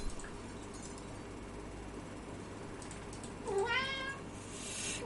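A cat meows once, a clear rising-falling call in the middle of a quiet indoor room with low background hum, fairly close and moderately loud.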